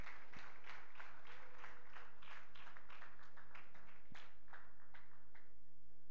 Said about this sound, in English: This is the good place to clap for him and acknowledge his leadership.